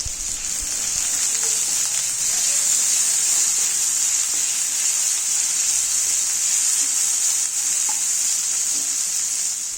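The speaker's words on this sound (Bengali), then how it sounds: "তেল গরম হলে পেঁয়াজ কুচি দুটি কাঁচা লঙ্কা চেরা আর সামান্য লবণ দিয়ে হালকা নাড়াচাড়া করে দেবো" Chopped onion, slit green chillies and salt frying in hot mustard oil, a loud, steady hiss and crackle of sizzling that continues evenly throughout, with faint stirring underneath.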